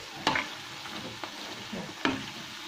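Zalabia dough fries in hot oil, a continuous soft sizzle and bubbling close by, broken by a few sharper clicks as the pieces are stirred, with no talking.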